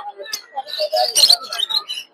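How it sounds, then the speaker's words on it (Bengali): Lovebirds chirp at a busy bird market in Tongi, with short bright calls and twitters coming in bursts throughout, close and fairly loud, over faint background murmur. "এগুলো লাভবার্ড"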